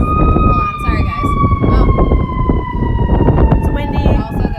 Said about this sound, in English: We have a Timeout. siren going by.